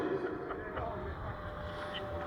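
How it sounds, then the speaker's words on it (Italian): A SebArt Angel S EVO model's small engine drones near full throttle at a high, steady pitch, with wind noise and faint background voices over it. "Motore quasi a tutta."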